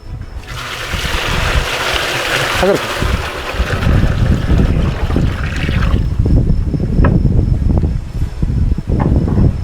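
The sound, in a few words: water poured into a half-cut 200-litre drum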